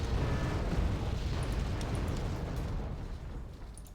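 Artillery barrages rumble through a Wargame Red Dragon battle, a dense, continuous roar of heavy explosions with deep low-end booms, steady and loud across the whole stretch with no voices.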